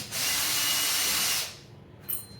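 A power screwdriver backs a screw out of a Panasonic Genius Prestige microwave casing, whirring loudly and steadily for about a second and a half, then it stops and a faint metallic clink follows.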